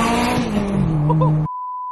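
A Subaru fitted with a big turbo, open dump tube and wastegate lets out a loud, close, screaming wastegate burst with engine roar for about a second and a half, then cuts to a thin steady tone.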